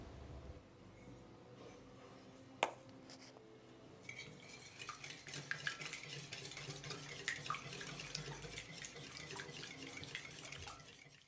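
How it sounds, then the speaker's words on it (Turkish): Egg, olive oil and salt being stirred in a mixing bowl for a spinach quiche dough, giving a soft continuous scraping and clinking of a utensil against the bowl with one sharp knock early on. "1 çay kaşığı tuzu da ekleyerek karıştırıyorum."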